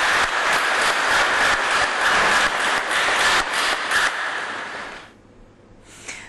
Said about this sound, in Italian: mentre un applauso saluta per l'ultima volta questa coraggiosa mamma